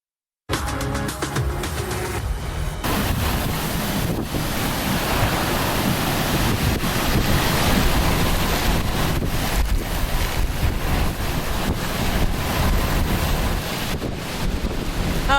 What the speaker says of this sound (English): between the rain and the wind, what's louder, right? That is the question. The waves too.